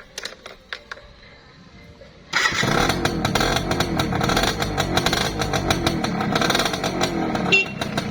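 A classic Honda Win 100 motorcycle starts after a few faint clicks and then runs at a steady, loud idle close by, its rapid engine pulses continuing to the end.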